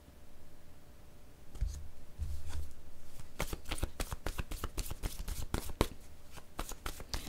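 Tarot cards are shuffled close by, first a couple of soft slides, then a rapid run of crisp, riffling flicks and slaps that continues to the end.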